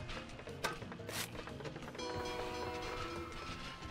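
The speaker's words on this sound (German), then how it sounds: "Der Zug ist am Bahnhof eingetroffen." A train pulls into a station in the video game SteamWorld Build: steady rolling rail rumble with a horn-like tone and clattering, moderately loud, without talk.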